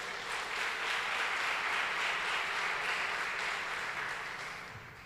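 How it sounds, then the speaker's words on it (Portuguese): Church congregation applauding during a Portuguese sermon, a dense sustained wash of many hands clapping at steady loudness that fades slightly toward the end, with no talk over it. "Dê um aplauso ao Senhor por isso."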